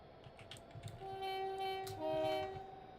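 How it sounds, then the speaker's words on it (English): Railhead treatment train (RHTT) passing along the rails in a train simulator, a quiet rumbling run with sustained horn-like tones rising in the middle and end, fairly distant and without talk. "Railhead treatment train."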